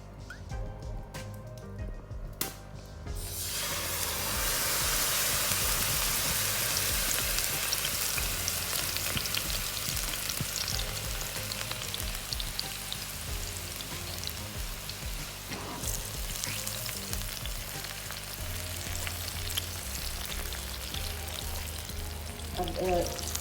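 Chicken marinated in orange and lemon juice sizzles in a pan of olive oil, a steady broadband frying hiss that starts after a few quiet seconds and keeps up evenly, with faint low hum underneath.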